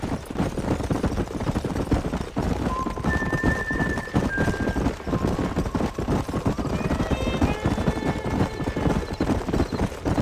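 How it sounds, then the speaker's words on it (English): Hooves clip-clopping in a fast steady beat as horses gallop in Red Dead Redemption, with a long whinny cutting through midway and more neighing toward the end, loud and close. "There's the horses!"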